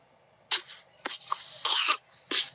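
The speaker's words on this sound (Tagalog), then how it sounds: "Naku po, may ubo na naman." A small child coughs in a few sharp, separate bursts during a family video call, close and loud against a quiet background, with no talk over them.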